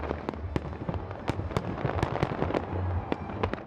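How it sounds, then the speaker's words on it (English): Hogmanay midnight fireworks bursting over Edinburgh, a dense run of sharp cracks and booms in quick irregular succession over a steady rumbling background, with no talk. "imagine the midnight fireworks with the sound turned down"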